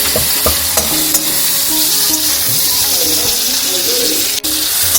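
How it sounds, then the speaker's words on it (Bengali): Moong dal is tempered in a kadai with green peas, sizzling loudly and steadily while a spoon stirs and scrapes the pan in a few sharp knocks, close up, with running water faintly behind. "আর এখানে আমি এখন ডালটা ফোড়ন দেবো মুগের ডাল কড়াই কড়াইশুটি দিয়ে"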